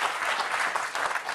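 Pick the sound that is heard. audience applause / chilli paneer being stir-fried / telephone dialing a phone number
audience applause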